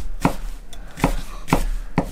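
Four evenly spaced, crisp knife strikes on a cutting board as food is chopped with a chef's or santoku kitchen knife in a rocking motion, close and clear with no talking.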